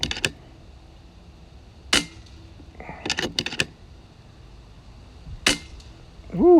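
Air rifle firing pellets outdoors in wind, a few sharp isolated cracks spaced seconds apart with a quick cluster of clicks in between, close and fairly faint against a quiet background.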